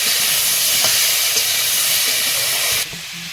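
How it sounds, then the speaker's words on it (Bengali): Steady sizzling hiss of shrimp and greens frying in a pan, loud and continuous, with a few faint clinks before it drops off near the end. "শাকের সঙ্গে চিংড়িটাও ভাজা হবে হালকা ভাজা করবো"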